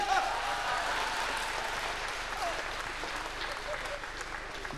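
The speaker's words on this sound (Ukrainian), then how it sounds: "Оплески, оплески, респект!" Steady audience applause at a stage show after an Elvis Presley lookalike contest win, dense continuous clapping throughout with a brief voice faintly at the start.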